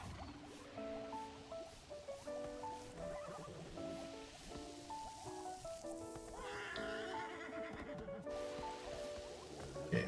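A horse whinnies in the video game Infinity Nikki while it is being petted, the neigh riding over a bed of game music and soft ambient rain-like sound.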